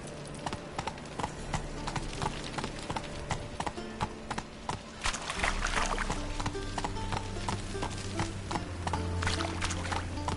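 Roach's hooves clip-clopping steadily in The Witcher 3, a continuous rhythmic clatter of footfalls over the game's ambient background, fairly close, with no talking.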